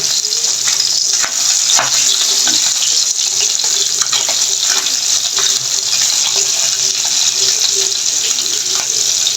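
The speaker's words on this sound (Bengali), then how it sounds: "ভাজতেছি এখন এই যে আমি মাছগুলো তুলে নিলাম" Fish fries in a pan with a loud, steady, hissing sizzle that never lets up, and faint scrapes come through now and then as the pieces are lifted out.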